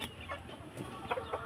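A backyard fighting rooster gives a few soft, brief clucks close by, faint and short over quiet background.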